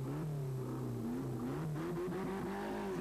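A rally car accelerating away from a stage start at Rally Ypres 1993, a continuous rising and shifting engine roar with some tire noise, fairly close and without voices.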